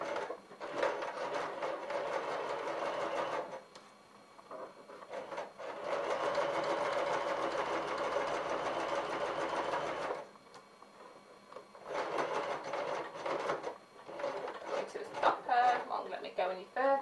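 A sewing machine with a zipper foot stitching an invisible zipper runs in three long bursts of close, even mechanical whirring, separated by short quiet pauses.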